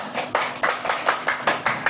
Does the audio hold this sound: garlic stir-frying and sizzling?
no